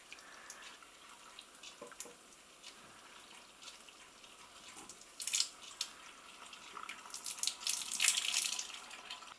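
Sodium percarbonate oxygen bleach solution poured out, a steady faint trickling and splashing of liquid that grows slightly louder toward the end, with no talking.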